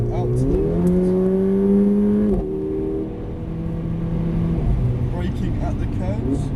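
Car accelerating under full power along a straight line on a cone-marked driving course, engine tone climbing steadily and loud near the microphone, with an instructor talking over it.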